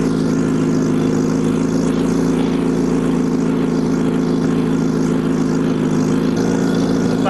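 A 1949 Farmall Cub tractor engine runs steadily while plowing snow, a constant loud droning hum with no breaks, close to the listener and without talk.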